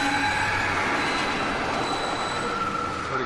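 A train rolls past in the video game Dead Space 2, a loud steady rumble of wheels and rail noise with high metallic squealing tones, sustained throughout with no talk.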